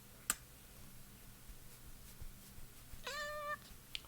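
A cat sitting on a desk lets out one short, faint meow near the end of a quiet room. It comes between a couple of small clicks and taps.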